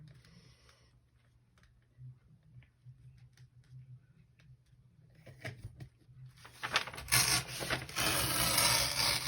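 Paper edges torn off by hand for a handmade journal: a quiet stretch of faint handling and low hum, then close, loud ripping and rasping that builds and continues steadily through the final seconds.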